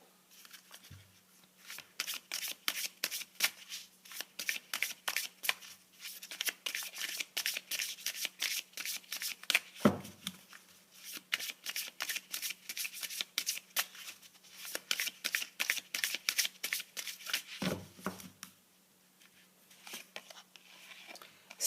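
A deck of tarot cards is shuffled over and over, making crisp, rapid riffling flutters in long bursts with short gaps and a few soft knocks between rounds.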